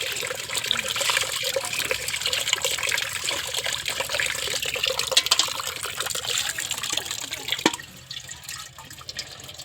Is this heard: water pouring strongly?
yes